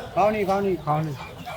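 Fayoumi chickens clucking at a busy village market in Bangladesh, a few close, loud squawking calls in quick bursts, with market chatter and voices mixed in.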